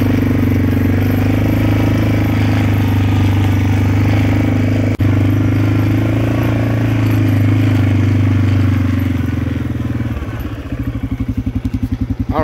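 An old vehicle engine runs steadily throughout a ride out to a drag strip, a loud, close, droning rumble with clattery mechanical texture, one sharp knock midway and a choppier, pulsing idle toward the end.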